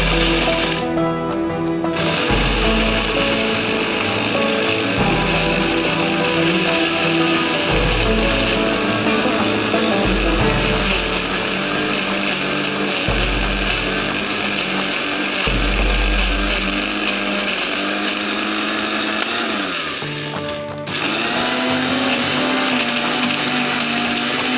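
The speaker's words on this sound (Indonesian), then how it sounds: "Oke, kita mulai proses blender." A kitchen blender grinding chili paste for sambal roars steadily and loudly throughout, its motor pitch shifting as it grinds, with brief pauses and a clatter near the start and end.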